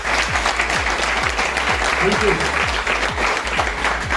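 Applause from an audience at a speech event, dense continuous clapping with a rhythmic low thumping beneath it and a brief voice in the middle, steady and fairly loud throughout.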